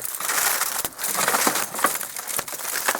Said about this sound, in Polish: I rozbił nam szybę.